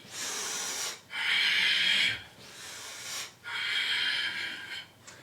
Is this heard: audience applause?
no